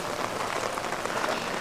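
Steady rain pouring at a resort, a dense, even hiss of drops striking surfaces, fairly loud and continuous with no voices.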